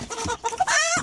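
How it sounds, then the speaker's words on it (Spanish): Hens are put into a cage, giving close, agitated clucks and squawks in quick bursts over about a second. "Estamos metiendo las gallinas en una jaula aquí,"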